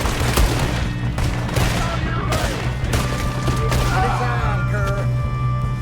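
A police shootout in Red Dead Redemption 2, with dense, rapid bursts of gunfire and booming shots piling over one another, loud and close throughout, with a voice faintly underneath.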